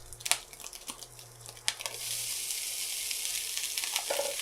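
Rice drops into hot oil in a pan for Spam breakfast fried rice, beginning with a few light clatters and scrapes before settling into a close, steady sizzle that holds until the end.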